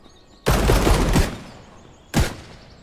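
LMG machine gun fire in the survival game HumanitZ: a loud, close burst of rapid shots lasting under a second, then a brief gap and a single short second burst, with no talk.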